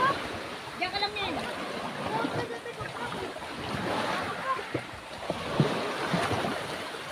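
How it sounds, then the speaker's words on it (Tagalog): Strong sea waves wash onto a white sand beach at Bitoon, a steady surf rush with wind noise on the microphone, while people talk nearby. "Tsaka malakas ang alon."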